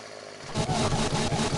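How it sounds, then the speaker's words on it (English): A chainsaw in the video game 7 Days to Die starts up suddenly and runs loud and close with a pulsing, buzzing engine drone. "Forgot the chainsaw is super loud, my apologies."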